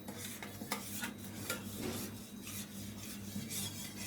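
Biryani masala being stirred and mixed in a metal pot, with a spoon scraping and clinking against the sides in a soft, steady rhythm and no talking.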